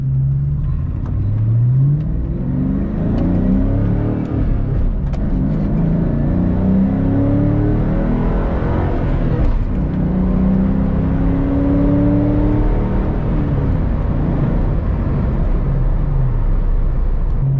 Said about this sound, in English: This needs a louder exhaust.